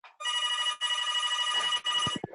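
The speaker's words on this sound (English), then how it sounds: "Oh, let me get the phone." A telephone rings close by during a weekly call, with several long trilling bursts separated by short gaps and a few faint knocks at the end.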